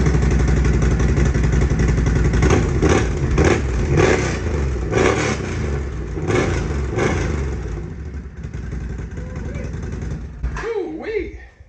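A Can-Am ATV, an Outlander 800 or Renegade 1000, starts up and is revved repeatedly close by, engine surging and falling several times before idling down, with people talking underneath.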